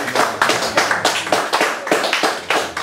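Clapping for a husband-and-wife poetry duo on stage, loud and close, with a steady pulsing rhythm of quick hand claps repeating about every third of a second throughout.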